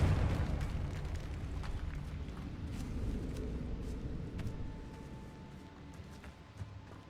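A Confringo spell blast from the Hogwarts Legacy game, a deep rumbling explosion that booms loudly at the start and slowly fades into a low roar with scattered debris crackles.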